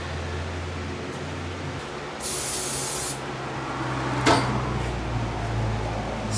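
A short burst of generator lubricant from an aerosol can hisses for about a second over a low steady hum, followed by a brief clunk, with no talking.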